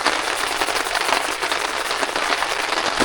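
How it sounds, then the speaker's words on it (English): Heavy rain drums on a backpacking tent during a rainstorm, a dense, continuous patter with sharp individual drops, close and loud throughout. "we'll see how long this rain goes for."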